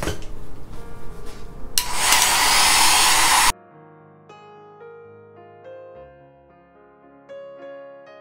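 A hair dryer blows steadily on wet watercolor paint for a few seconds with a loud broadband rush, then cuts off abruptly and soft piano-like music carries on alone.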